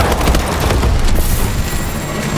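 A loud, rumbling pressure explosion in Call of Duty: Advanced Warfare, with dense crackling noise filling the whole stretch in the game's chaotic soundscape.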